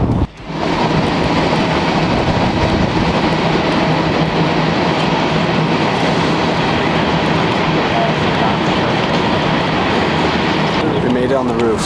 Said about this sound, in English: Train's moving.